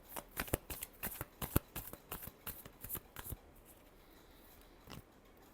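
A deck of tarot cards is shuffled by hand, close up, in a quick run of crisp riffling snaps and slaps, then a pause and one last tap.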